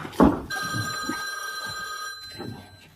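A telephone bell rings in one sustained electric burst, preceded by a short thump, then fades into quiet room noise.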